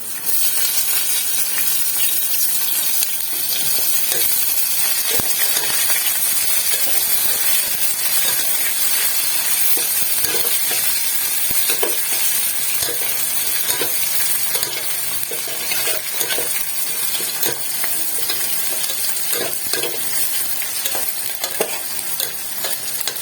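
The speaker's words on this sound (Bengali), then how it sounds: "পেঁয়াজটা একটু লাল করে ভেজে নিয়ে আমি মাংসটা দেবো।" Steady, loud sizzling and crackling of onions frying in hot mustard oil, with occasional stirring scrapes, continuous throughout with no voices.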